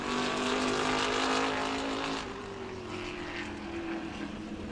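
A race car runs laps on a short oval track during qualifying at New Smyrna, its engine roaring loudly and steadily, then the pitch shifts and the sound eases slightly as the car passes by.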